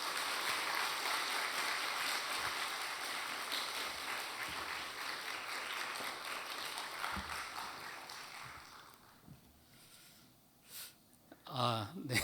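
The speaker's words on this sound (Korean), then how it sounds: "나오실 때 우리 큰 박수로 환영하도록 하겠습니다." Church congregation clapping to welcome a missionary speaker at a Friday prayer service, steady applause for most of the stretch that thins out and fades near the end, followed by a few scattered sounds.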